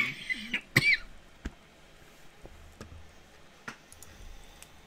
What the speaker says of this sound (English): Sorry, I'm coughing.